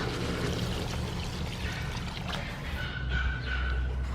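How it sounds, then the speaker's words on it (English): Steady stream of water pouring into a pot of beef stew, a continuous splashing trickle close by, with faint background hum and no talking. "Add some water."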